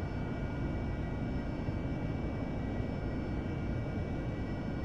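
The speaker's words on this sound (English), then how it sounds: "as the Hornet has got a noise of a bloody Spitfire" Steady, droning jet engine roar of an F/A-18 Hornet in DCS World, a constant dense rumble with a few faint tonal whines, unbroken and without voices.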